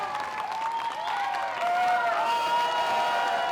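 A crowd at a women's disc golf tournament, the 2023 MVP Open, claps and cheers in a steady roar that swells partway through, heard from among the spectators, while a whistle-like tone carries over the top.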